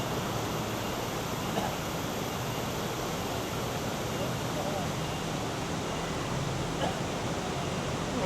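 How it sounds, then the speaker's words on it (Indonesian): Continuous rushing of a river beside a riverside campsite, mixed with passing road traffic, forming a steady, dense wash of noise with no distinct breaks. "suara dari sungai sama kendaraan"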